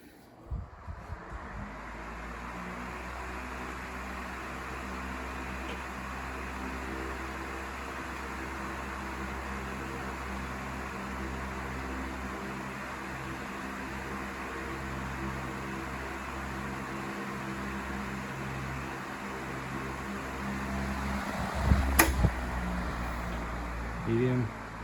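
Tozai Deluxe 16-inch three-speed oscillating fan with opaque flexible plastic blades, running on high speed: a steady, loud airy drone with a low motor hum, broken briefly near the end by a few clicks and knocks.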